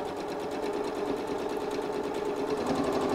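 Sewing machine stitches purse fabric, reversing a few stitches, with a continuous close, even mechanical whir of rapid needle strokes throughout.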